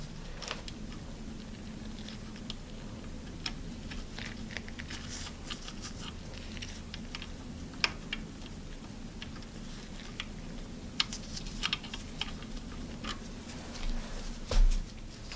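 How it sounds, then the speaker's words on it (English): Small metallic ticks and light clicks as pliers pull a caliper spring and disc brake pads slide into a mechanical bicycle disc brake caliper; faint, scattered and irregular over a steady low background, with no talk. "grab the spring with a pair of pliers and pull it out, and then slide the brake pads through the caliper"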